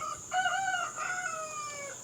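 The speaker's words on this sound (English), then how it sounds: "And the roosters have their commentary in the background." Roosters crowing in the background of a fall vegetable garden, one drawn-out crow followed by another overlapping call, moderately distant and clear, with no talking.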